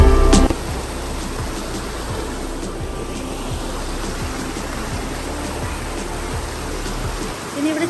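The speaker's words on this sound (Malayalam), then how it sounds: "അതിൻ്റെ താഴെ കൂടെയാണ് വെള്ളം ഒഴുകി പോകുന്നത്" Cold stream water rushes steadily beneath a small bridge at a farm in Munnar, a constant close, broadband gush after a brief louder knock at the start.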